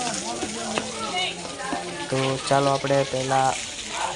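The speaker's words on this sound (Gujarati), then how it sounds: "અહીંયા મંદિરના મુખમાંથી પાણી આવે છે ત્યાં આપણે હાથ પગ ધોવાના હોય છે" Water runs from the cow-mouth spout at Droneswar Mahadev temple in Gir Gadhada, where visitors wash their feet, a steady rushing flow heard beneath someone speaking.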